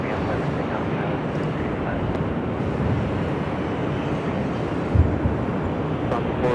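A jet airliner taking off from runway 24 left at LAX, a continuous loud broadband roar with wind buffeting on the microphone, steady throughout.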